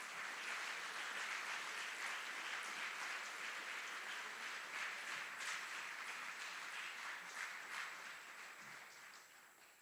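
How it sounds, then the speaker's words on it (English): A crowd applauds steadily, a dense wash of many hands clapping, sustained for several seconds before gradually tapering off, at a US Army aviation brigade graduation ceremony at Fort Eustis, honoring drill sergeants and instructors. "Please join us in giving a round of applause to these outstanding drill sergeants and instructors."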